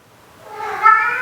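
A pet cat gives a single drawn-out meow up close, rising and holding clearly, alone in a quiet room.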